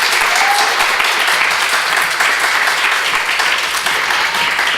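A church congregation applauds to welcome the pastor at a Sunday service, sustained loud clapping filling the hall without pause.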